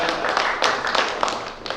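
Audience applause for a quiz winner at a meet-and-greet event with Mumbai Indians cricket stars: brisk, dense hand clapping from a nearby crowd, steady and fairly loud for a couple of seconds.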